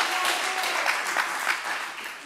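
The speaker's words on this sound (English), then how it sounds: "Some applause, yes." Audience clapping at a mayor's news conference, a dense steady round of applause from a large crowd, moderately loud and continuous throughout.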